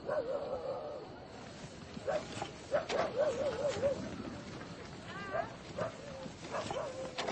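Dogs bark and whimper in a series of short yelps and whines, some rising and falling, set against a busy outdoor background with birds and voices.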